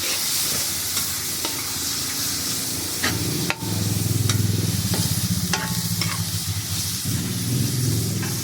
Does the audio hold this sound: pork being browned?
yes